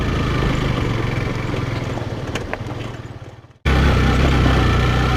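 A motorcycle engine drones loud and close as the bike crosses a freshly dug, rocky off-road trail, holding a steady rumble that fades briefly before surging back.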